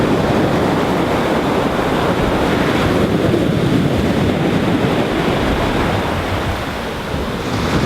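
Ocean waves break powerfully onto the sand at Nanfang'ao Beach, a loud, continuous roaring wash of surf with heavy wind rumble buffeting the microphone throughout.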